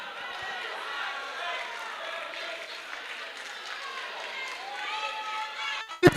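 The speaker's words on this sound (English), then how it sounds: "Keep the applause going." A large audience at a business schools competition grand final in Ghana keeps up steady, dense applause for several seconds, a continuous wash of clapping and cheering that ends in a sudden loud burst.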